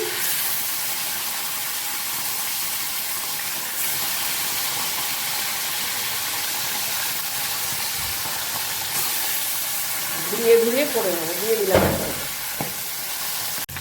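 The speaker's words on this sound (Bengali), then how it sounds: "তেলটা আমার গরম হয়ে গেছে এবার মাছগুলোকে দিয়ে দিচ্ছি" Fish sizzles and hisses steadily in hot mustard oil in a home kitchen, a constant frying crackle with brief stirring and clatter near the end while someone speaks briefly.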